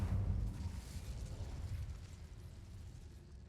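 Incendio fire spell cast in Hogwarts Legacy, a loud low whooshing burst that swells at the start and then rumbles on steadily, fading slightly, with no voices.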